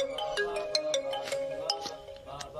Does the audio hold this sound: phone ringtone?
yes